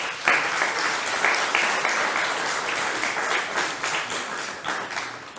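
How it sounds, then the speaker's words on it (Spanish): A church congregation applauds during a sermon, a loud, dense burst of many people clapping that swells early and stays steady, tapering slightly toward the end with no talk over it. "Denle un aplauso al Rey."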